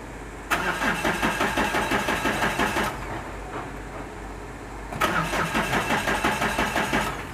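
A Mahindra Bolero Pickup with an EMS immobilizer lock cranks without firing: two separate bursts of fast, rhythmic starter-motor chugging, each lasting a couple of seconds, separated by a quieter pause, loud and close.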